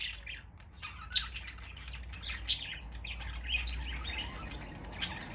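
Pet budgies in an aviary give repeated sharp squawks and chirps at close range over a steady low hum, with several brighter calls standing out.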